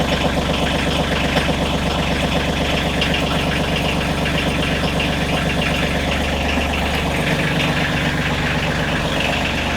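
A tractor's diesel engine idles steadily with a backhoe attached, a continuous close rumble with a knocking beat throughout and no talk.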